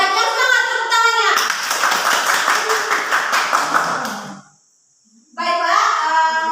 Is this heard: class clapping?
yes